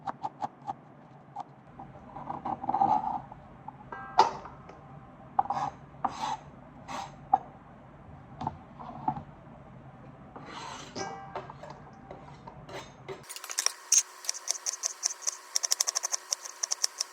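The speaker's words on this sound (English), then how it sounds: "So I'm going to now cut all these ingredients up," A knife works through marinated octopus salad ingredients on a board, giving a series of close, uneven scraping and chopping strokes; a brighter, different rustling takes over near the end.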